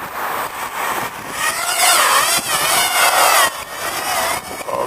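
Motors of an Eachine EX120 drone whine up at takeoff, a loud close buzzing that rises and wavers in pitch over several seconds with brief dips, alone without speech.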